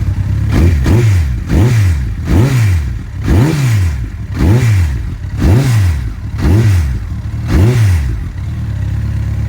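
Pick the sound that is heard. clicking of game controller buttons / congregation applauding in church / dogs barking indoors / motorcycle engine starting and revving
motorcycle engine starting and revving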